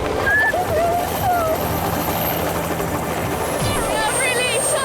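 A helicopter flying, a loud continuous rotor and engine drone filling the whole stretch, with voices and birdlike chirps faintly audible beneath it.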